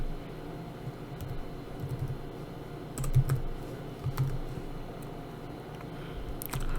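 Someone types a file name on a computer keyboard: a few short, faint bursts of key clicks against a quiet room hum, with no talking.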